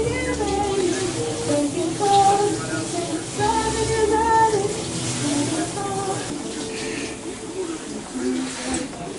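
Shower water runs in a continuous hiss while someone sings along in the background, muffled and moderately loud.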